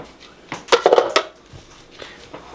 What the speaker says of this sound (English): I'm gonna grab the beater without getting cut.